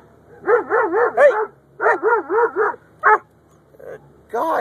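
A dog barks close by in quick yapping runs of three to four barks separated by short pauses, loud and alone, during a street encounter.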